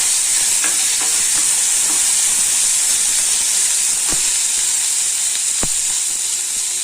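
Curry leaves, tomato and chillies sautéing in a pan for a white kurma, giving a steady, loud broadband sizzle with faint stirring scrapes and a couple of sharp clicks, no talking.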